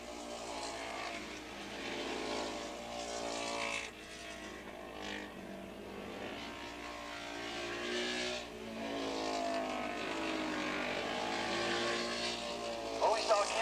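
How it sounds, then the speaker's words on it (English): A Ducati racing motorcycle at a 1986 Battle of the Twins race at Willow Springs International sweeps past on the track with a loud, sustained engine roar. The roar swells and fades as it passes, with a commentator talking over it. "That was Earl Campbell coming by in the Ducati."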